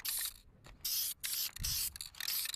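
Short hissing bursts of spray paint laying a base coat onto a car bumper, about four close, loud pulses separated by brief gaps.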